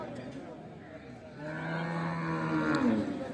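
A Sahiwal cow gives a long, low moo that swells midway and carries on to the end, heard close by over a quiet farmyard background.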